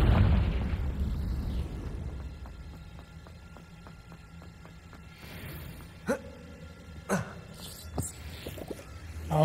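Confringo fire spell blasts in Hogwarts Legacy, with several sharp bursts and pops near the end over a low rumbling game background, the loud initial boom hitting right at the start.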